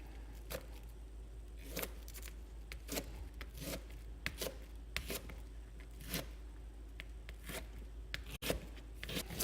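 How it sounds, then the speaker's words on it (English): A kitchen knife chops pepper ends crossways on a cutting board, a steady series of about a dozen sharp, close taps in an irregular rhythm, with one louder knock near the end. "Just going to do crossways chop."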